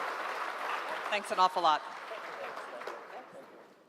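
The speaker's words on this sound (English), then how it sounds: "Warm clap for them one more time." An audience at an AmCham business summit in Nairobi claps steadily in a dense wash of applause, while someone speaks briefly over it and the clapping tapers off.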